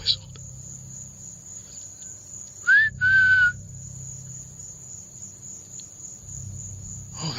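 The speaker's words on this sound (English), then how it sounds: "They just whistled." A person whistles in the woods at night, two short rising whistles close together, heard over a steady chorus of crickets and insects with a faint low rumble underneath.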